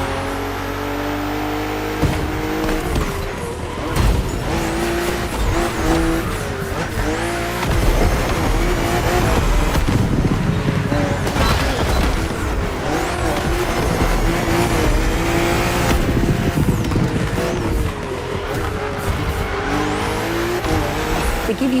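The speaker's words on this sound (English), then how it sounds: "we put you behind the wheel of the fastest production car BMW has ever made, the M4 CSL" A BMW M4 CSL racing in The Crew Motorfest, engine revving and shifting through gears with repeated tire squeals as it takes corners, loud and continuous with no talk.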